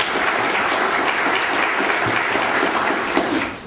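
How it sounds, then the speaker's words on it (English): Symposium audience giving a round of applause to event organizers in a lecture hall, dense continuous clapping from many people, fairly close and steady, tapering off at the end. "let's pause and give them a hand of applause as well"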